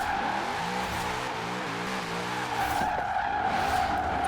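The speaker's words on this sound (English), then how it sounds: "Just drifting past all the traffic is so entertaining." A drifting car in Forza Horizon 4 squeals its tires in a long, continuous skid over a steady engine whine, the screech wavering in pitch as the car slides, close and loud throughout.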